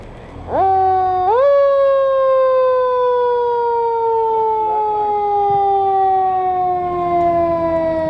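A fire engine's loud wailing siren at a parade rises quickly and then holds a long, slowly falling tone, close and continuous.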